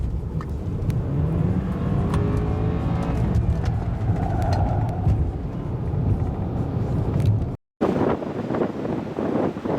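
A 2013 BMW 528i xDrive with a four-cylinder engine drives slowly around a small circle, giving a smooth, low, steady engine and road hum with some wind rumble and a brief dropout near the end.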